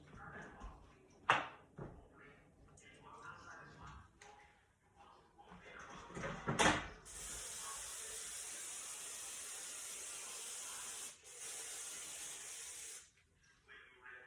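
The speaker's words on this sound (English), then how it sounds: "Just kind of spray it so the oil, kind of sits on there" An aerosol can of cooking oil sprays onto a pan in a long steady hiss lasting several seconds with a brief break, after a few clunks and handling sounds.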